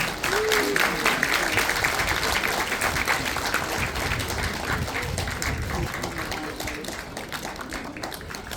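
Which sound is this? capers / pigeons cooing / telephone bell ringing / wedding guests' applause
wedding guests' applause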